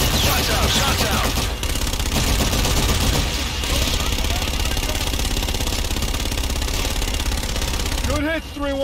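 Artillery fire strike in Call of Duty Infinite Warfare: a dense, continuous stream of rapid blasts and pounding impacts, loud and sustained, with radio chatter and voices beneath the barrage.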